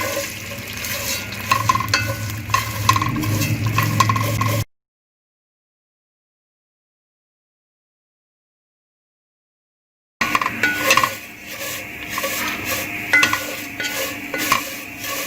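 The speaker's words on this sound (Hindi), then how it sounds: "अब हम इसमें डालेंगे सेवइयाँ और इनको थोड़ा सा हम भूनेंगे।" Vermicelli (sevaiyan) is stirred and roasted in a pan for sheer khurma. There is steady sizzling with scraping spoon and pan clatter, close and fairly loud. It runs for a few seconds, stops dead in a long silent gap, then picks up again.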